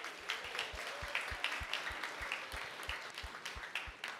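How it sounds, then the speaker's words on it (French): Applause from an audience at an evening school event in Paris, a steady patter of hands kept up at a moderate distance, with low thumps recurring evenly beneath it throughout. "À vos applaudissements, s'il vous plaît."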